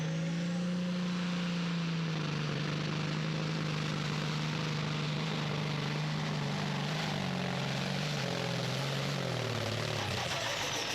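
A Kenworth hot rod semi truck's engine sputters and roars continuously down a pulling track at a Pro Pulling event in Hillsboro, Wisconsin, loud and steady with a rough, uneven drone throughout.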